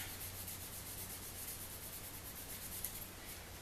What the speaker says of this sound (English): I'm going to hit it with a Scotch-Brite.